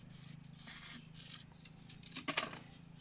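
Scissors snip through a plant label cut from the wooden part of a camembert box, a run of soft close cutting and scraping strokes that grows sharper and louder toward the end, with no voices.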